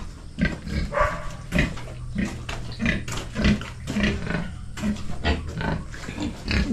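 Several pigs grunting repeatedly in a rural farmyard in the province, close and fairly loud, with overlapping snorts and a steady low background noise.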